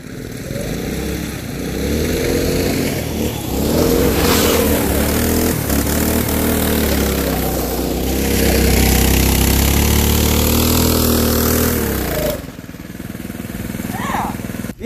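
A twin-engine go-kart fires up and revs hard, the loud close engine roar climbing and holding for most of the run before cutting back sharply near the end and picking up again.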